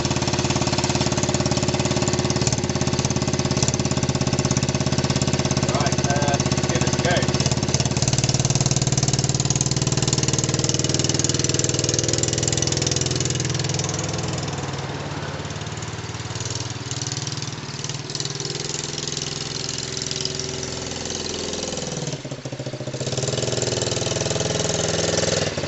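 A dirt bike engine idles steadily after a snowy cold start, a loud, close, continuous rough burble that dips slightly in level midway before recovering.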